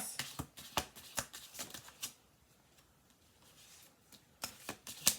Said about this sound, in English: We're not going to go too heavy into shuffling, but we get one or two cards.